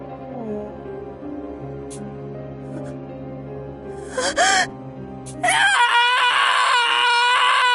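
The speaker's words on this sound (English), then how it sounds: "Oh god, that scream." A scream in the video game Process of Elimination rises sharply and loudly near the end, preceded by a gasp-like cry over sustained tonal game music.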